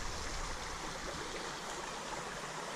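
River rapids rush through the woods, a steady, broad hiss of flowing water that sounds slightly distant and echoing, with no talk over it.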